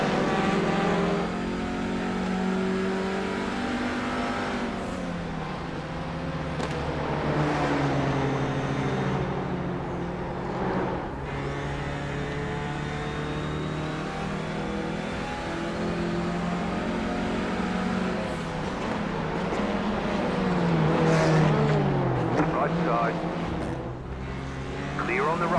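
A Hyundai TCR touring race car in an iRacing online race, its engine droning loudly and steadily with rising and falling revs as the field runs together, while a commentator talks over it throughout.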